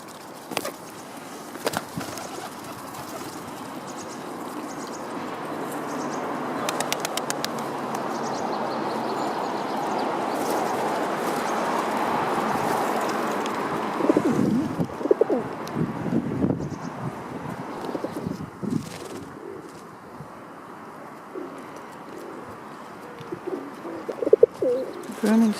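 Pigeons coo close by amid soft wing flaps and rustling at an outdoor bird gathering, with occasional talk and louder bursts of flapping toward the end.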